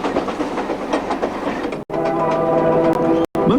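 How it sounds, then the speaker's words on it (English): A diesel locomotive runs along rails on a Canadian line cut through rock, a loud steady rumble and rattle of wagons passing close, briefly cut off twice by sharp gaps. "the sound, the feel, the smell even of the diesel locomotive"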